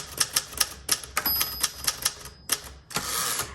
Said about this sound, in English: This typewriter, it works extremely well.